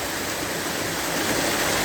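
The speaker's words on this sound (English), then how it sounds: "look at the waterfall." Steady, dense rushing of water, like a waterfall close by, filling the whole clip at an even level with no voices.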